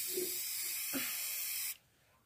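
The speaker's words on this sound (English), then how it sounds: "I'll spray paint you." A spray paint can hisses in one steady, close, bright blast lasting under two seconds, then cuts off abruptly into quiet, with no talking.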